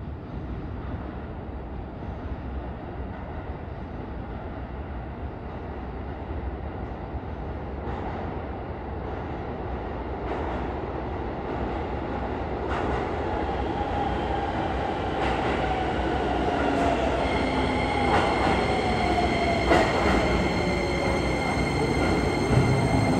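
A train pulls away from Higashi-Narita Station on the Shibayama Railway, its rumble building steadily while wheels squeal and rising motor tones whine higher as it gathers speed.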